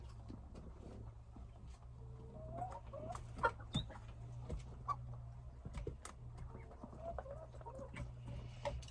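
Broiler chickens, being treated for a cold and cough, cluck softly and intermittently while drinking water, a faint scattering of calls over a low steady hum, with no talk.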